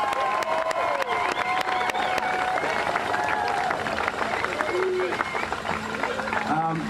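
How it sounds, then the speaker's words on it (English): Crowd applause and cheering at an outdoor Hamilton Bulldogs team ceremony in a city park, with steady clapping throughout and whistles and shouts above it. "So let's give a round of applause for these guys to start off."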